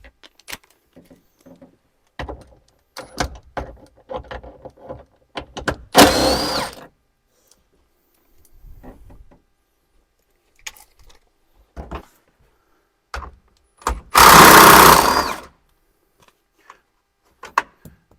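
Removing 8mm bolts from the dash of a 1992-96 Ford OBS truck, heard as scattered close clicks and ratchet-like taps with two longer whirring power-tool bursts, with no talk.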